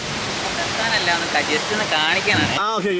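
Waterfall in Idukki seen among trees, with a steady broadband rush of falling water close by, while people talk over it throughout; the roar stays constant the whole time.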